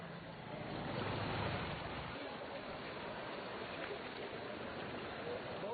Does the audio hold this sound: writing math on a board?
no